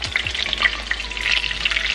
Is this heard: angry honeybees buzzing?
no